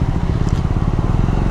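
A customized KTM 390 Adventure motorcycle engine runs close by at low revs with a rough, uneven, chugging rumble, as if about to stall.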